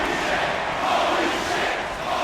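A wrestling crowd cheers and roars in a steady, loud wash during a match, with shouts blending into continuous arena noise and no clear breaks.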